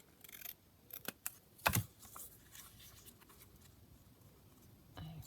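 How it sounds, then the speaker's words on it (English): Scissors trimming paper pages for a handmade junk journal, heard as a few crisp close snips and one louder cut over a faint background hiss. "So I just need to trim it down slightly"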